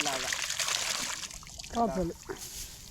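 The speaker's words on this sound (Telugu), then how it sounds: "ఈ మట్టిని అంతా కూడా ఇలా కడగడం జరుగుతుంది" Water splashes and trickles as mud is rinsed off bundled paddy seedlings in a rice field, brief sloshing bursts with a voice speaking over it.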